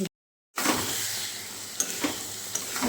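Ginger, garlic, onion, bay leaf and green chillies sizzle steadily in hot oil after a brief silent start, with a few light clicks of a spoon against the pan.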